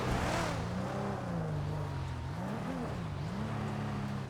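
In a video game, a car engine in sequential gear drones loudly and steadily, its pitch rising and dipping as it revs, with no speech over it.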